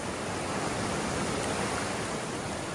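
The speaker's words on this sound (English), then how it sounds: "Flash flooding has already occurred across central California and the southern Sierra." Rushing floodwater from a flash flood in central California and the southern Sierra, a loud, steady, broadband roar of churning water with no voices.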